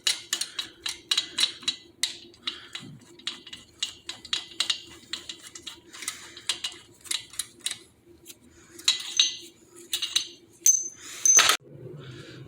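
Harley-Davidson cylinder head bolts being run out, with steady rapid ratchet ticking close by over a low background hum, ending in a sharp metallic clatter.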